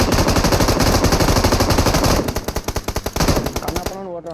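Loud, fast automatic gunfire from the battle royale game PUBG, a dense unbroken stream that slows into separate rapid shots before cutting off, with a voice faintly underneath.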